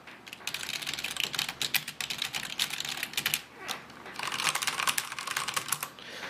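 Rapid typing on an old Cytec Eclipse keyboard, a busy, close stream of clicky keystrokes with a brief lull midway before the clatter resumes.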